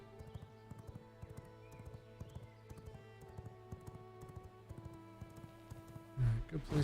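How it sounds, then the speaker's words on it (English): A horse galloping in the survival game V Rising: steady, rhythmic hoofbeats thud evenly through a low musical background, ending in a louder rush of sound as the ride stops. "Alright, good place to park the horse."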